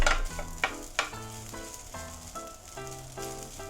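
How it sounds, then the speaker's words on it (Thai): Stir-frying in a pan with salty oil left from grilling Australian outside-cut beef, a steady close sizzle punctuated by sharp scraping and clinking strokes of the spatula at an irregular rhythm, with no talking. "ค่อยๆผัดไปไม่ต้องผัดให้มันเหมือนจีนก็ได้"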